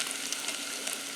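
Onion tossed into bacon frying in a pot makes a soft, steady sizzle that stays moderately faint and close, with light crackles and a sharp pop near the end.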